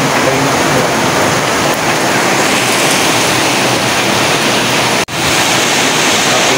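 Heavy rain pours down in a dense, loud, steady hiss, broken once by a brief sharp dropout.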